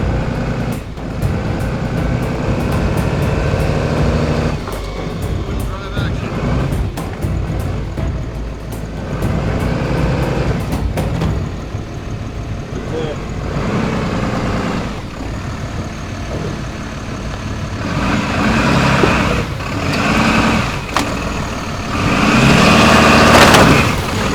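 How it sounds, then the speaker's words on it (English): A Ram pickup in two-wheel drive and high range rolls through a dip on an overland route toward the Arctic Ocean, its engine droning steadily and loudly up close, with a rougher surge of revs and rattles near the end. "The Ram, now with only 2-wheel drive and high range, still got through this dip without any issues."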